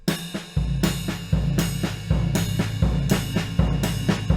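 A jazz drum exercise with no hi-hat: strong low kick and snare hits fall in a slow, regular pulse, each followed by ringing cymbal wash, played close and loud with no voices.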